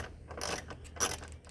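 Small 5.5 mm screws being turned with a loose-fitting 7/32 tool on the AC blower motor of a 2007 Chevy Express 3500, giving faint, scattered mechanical clicks and a couple of brief scraping bursts at close range.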